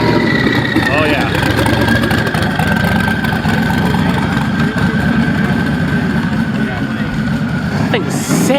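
Twin-turbo car at Holley LS Fest East 2022, its turbo dump pipe poking out of the hood, idling loud and close with a steady rumble and a rising whine near the end, while people talk nearby.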